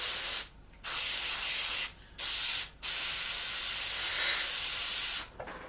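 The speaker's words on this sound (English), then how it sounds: "we're just respray all of these latches" Short bursts of spray paint hissing onto latches of a 1/48 scale Airfix Sea Vixen model aircraft, four close, loud sprays with brief pauses between, the last one long and steady.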